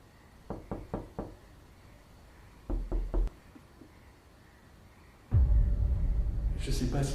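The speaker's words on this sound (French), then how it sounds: "Comme qu'un tapotement, c'est pas frappé. Un tapotement sur un mur," Light knocks on a wall come in two small bursts, four quick raps and then three, faint against a quiet room before a louder rumbling noise swells at the end.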